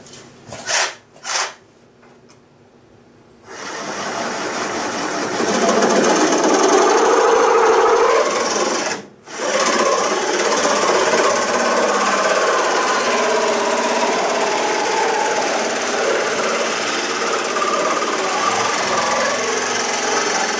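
A handheld power tool cuts off part of a radiator pipe in a workshop: a few short revs, then a long loud grinding whine, a brief stop, and steady cutting again to the end.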